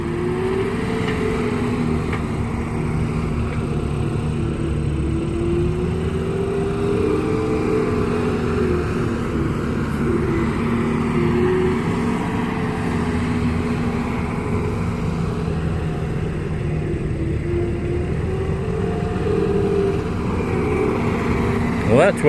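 A 12-ton truck rumbles steadily as it drives away, a low continuous engine drone that holds at moderate loudness, with occasional talk.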